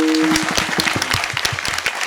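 An audience claps together at a Marathi kirtan in Pimpalgaon, a dense burst of many hands at close range that holds steady for about two seconds. A brief sustained tone sounds at the very start.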